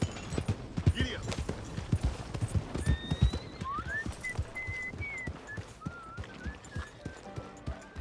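A horse's hooves clip-clop in a steady, even rhythm on a hard surface, close and clear, with occasional faint background sounds and a brief whinny-like tone.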